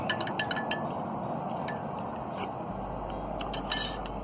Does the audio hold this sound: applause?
no